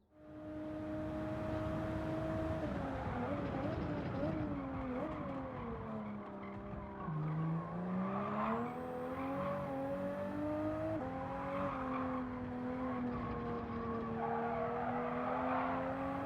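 A race car in Gran Turismo 7 with a stiff rear and soft front suspension oversteers, its tires squealing in long wavering tones over a steady engine drone for the whole stretch, loud and continuous with no talk.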